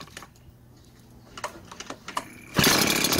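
Zenoah engine leaf blower, one that stalls when the throttle is pulled, stays quiet with a few light clicks, then suddenly roars to life with a loud, close, steady engine roar.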